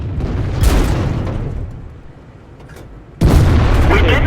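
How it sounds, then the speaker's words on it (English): Two heavy booming tank cannon shots from a WZ-111 in World of Tanks, firing high-explosive shells; loud, close blasts about two and a half seconds apart, each with a rumbling tail. "I'm shooting with HE instead."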